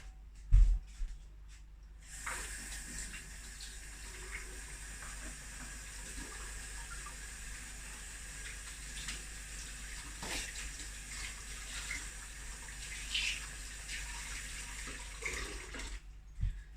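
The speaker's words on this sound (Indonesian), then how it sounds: "Bentar ya, saya cuci tangan dulu ya." Hands being washed under a running tap: after a brief clunk, water pours steadily for over ten seconds with faint splashing as the hands move, then cuts off near the end.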